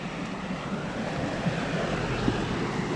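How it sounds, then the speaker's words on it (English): Fast-moving flood water rushing under a bridge at Danford Lake, a steady, dense roar of churning water with wind buffeting the microphone, continuous and close throughout. "That's fast moving water."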